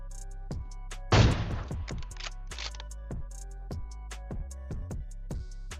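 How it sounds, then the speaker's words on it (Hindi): An AWM sniper rifle fires a single headshot in a battle royale video game. One loud, sharp shot rings out with a trailing echo over steady, tonal game sounds and light background clicks. "तो मैं सिंपली भाई इसको AWM का एक हेडशॉट मार देता हूँ"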